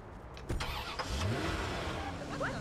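A car engine in the Watch Dogs video game cranks and catches with a couple of sharp starter bursts, then settles into a steady idle with a slight rev, close and moderately loud.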